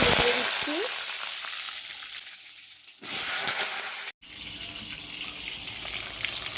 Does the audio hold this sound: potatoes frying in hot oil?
yes